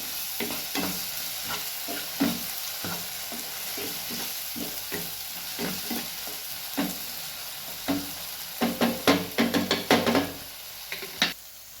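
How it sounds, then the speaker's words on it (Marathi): Ingredients being stirred and roasted with salt in a pan, a constant frying sizzle broken by regular scraping and knocking strokes of a spoon that speed up toward the end, close and clear with no voices. "मिक्स करून भाजूया सगळं चांगलं"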